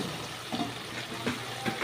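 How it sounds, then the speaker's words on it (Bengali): A small amount of water poured into egg curry as it cooks in a pan, a soft, steady splashing trickle over a faint sizzle, with no talking. "এবার আমি জল দিয়ে দেবো, একটুখানি জল দিয়ে দেবো"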